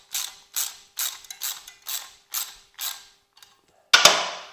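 A Shovelhead motorcycle clutch spring assembly is compressed with a tool, giving seven evenly spaced ratcheting clicks and creaks followed by a pause and a sharp metallic clank.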